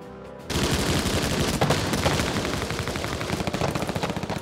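Dense machine gun fire from a Normandy beach battle in a wartime documentary, rapid bursts of loud gunshots and fusillade rattling continuously after a brief quiet start, with no talk.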